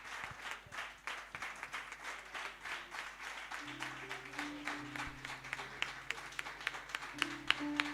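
A large youth convention audience applauds together, a dense, continuous wash of clapping that stays steady throughout, with a faint sustained musical tone underneath.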